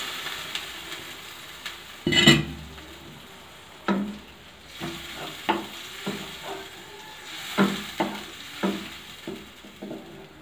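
Fish frying in a pan with mustard paste, a steady soft sizzle broken by repeated scraping stirs and one louder clatter, close by with no talking.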